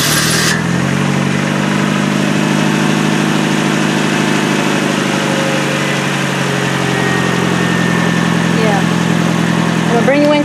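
A 1999 Nissan Altima with a 2.4-litre engine catches after cranking and settles into a steady, close idle, a continuous low drone with people talking over it.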